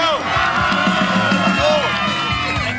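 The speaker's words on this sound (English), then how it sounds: "Cheer on your representative." A crowd of fans at a lively game-style event cheers and shouts loudly for their representative, a close, continuous roar of voices with whoops and children's shrieks rising throughout.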